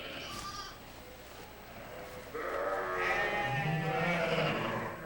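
Sheep and lambs bleat in a flock, with several calls coming close together over steady background noise.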